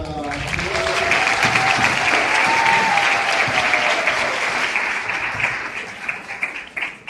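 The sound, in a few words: audience applause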